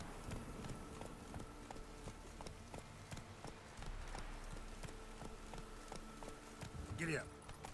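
Horse hooves from The Witcher 3 clop in a quick, irregular rhythm, fairly close and moderately quiet, with a brief vocal sound near the end.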